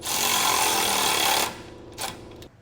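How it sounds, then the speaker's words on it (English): Power tool driving a 17mm socket to snug down bolts on a Curt base plate kit for a 2021 Jeep Wrangler, a loud steady whir for about a second and a half, then a brief second burst. "So I'll just snug these down using a 17mm socket"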